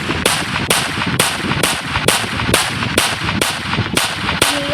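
Gunfire in a mobile knockoff of the GTA 5 video game: a steady series of about ten loud, sharp shots spaced roughly half a second apart, with game sounds underneath and no talking.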